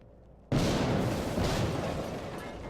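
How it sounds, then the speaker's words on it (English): Loud explosive blasts of fireworks in the video game Quantum Break burst in abruptly after a brief quiet start, then roll on as a sustained crackling, booming roar that slowly fades. "Fireworks! 4th of July! 4th of July!"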